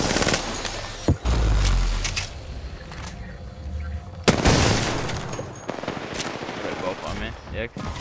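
Rapid automatic gunfire in Apex Legends, near and loud, with sharp bursts and a couple of heavier booms during a pub endgame firefight.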